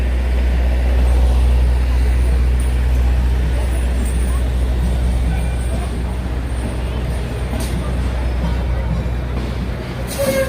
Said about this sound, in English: It's a noisy ice cream truck.